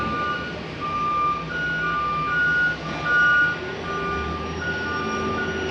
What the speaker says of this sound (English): Sorry about the noise from the dump truck.